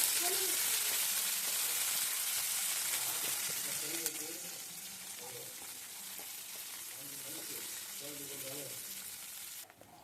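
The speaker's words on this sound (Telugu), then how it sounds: "ఇందులోకి ముందుగా కట్ చేసి పెట్టుకున్న ఆనియన్స్ని, అలాగే 2 రెబ్బల కరివేపాకును కూడా వేసుకొని ఫ్రై చేసుకోవాలి." Chopped onions, curry leaves and cumin fry in hot oil with a strong, continuous close sizzle and occasional stirring, while a voice talks intermittently over it.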